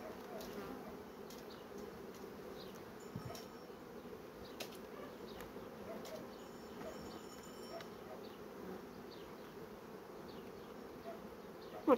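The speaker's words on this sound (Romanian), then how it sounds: "Văd că lucrează bine albina peste tot." Honeybees in an open hive during a frame inspection give a soft, continuous buzzing hum with a few insects passing close by, fairly faint and steady throughout.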